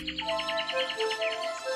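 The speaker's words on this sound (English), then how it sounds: "And can you hear the birds singing?" Birds sing as a sound effect in a Little Red Riding Hood audiobook, a quick run of faint, repeated high chirps and tweets over a short stretch, with no narration over them.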